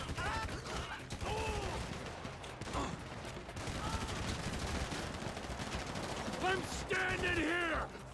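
Bursts of rapid gunfire crackle repeatedly amid a busy mix of GTA V game sounds, with police siren wails rising near the end.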